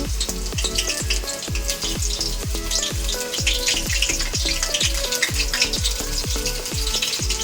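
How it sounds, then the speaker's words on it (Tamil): Meal maker pieces dropped one at a time into hot oil for deep frying, a loud, continuous crackling sizzle close up, with rapid bubbling pops throughout and no talking. "ஒன்று ஒன்றா போட்டு நம்ம பொரிச்சு எடுத்துக்கலாம்"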